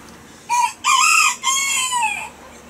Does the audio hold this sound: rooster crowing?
yes